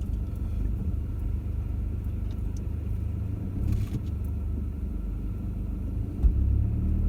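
A car creeps slowly through shallow water on high ground, its engine a steady low rumble throughout with a faint splashy rise midway and a brief bump near the end, no voices.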